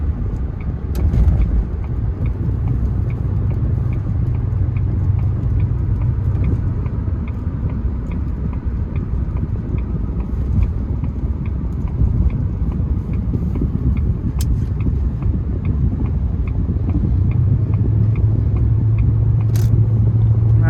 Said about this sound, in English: So you can kind of see the freeway ride that it gives you.